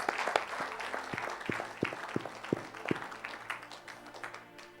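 A church congregation applauds during an evangelical healing service, a fairly close, steady patter of hand claps with a few sharper, louder claps standing out in the first half before the clapping thins slightly.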